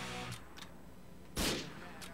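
A burst of gunfire in GTA IV, a loud broadband crack around the middle with fainter shots before and after, over a steady game background.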